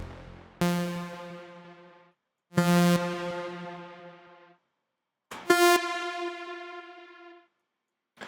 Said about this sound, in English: I'm just going to put this on a dry saw wave